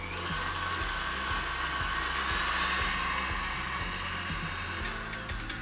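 An electric mixer whisks egg whites with sugar and a little vinegar for an Eton mess meringue, a steady high motor whine with a faint rhythmic rattle underneath, running alone at moderate volume.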